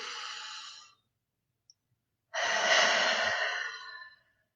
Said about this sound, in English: And then take another deep breath in